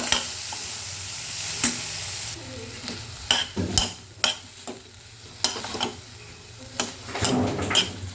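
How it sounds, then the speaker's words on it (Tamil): Onion, tomato and peanuts are stirred and sautéed in a pan for a turkey berry and peanut curry, a close sizzle under repeated clicking and scraping strokes of a spoon. "பாருங்கள் எல்லாத்தையும் இப்படியே ஒன்றா கிண்டி விட்டு அப்படியே வேக விட்டுருவோம்"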